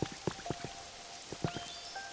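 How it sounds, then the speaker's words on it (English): Rain in the video game Pokémon Pokopia, falling as scattered distinct drops and soft patters over a faint steady background, with a few thin tonal game sounds. "It's really raining something fierce, isn't it?"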